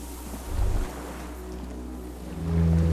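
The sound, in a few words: distant cargo ships on water, from video game Disco Elysium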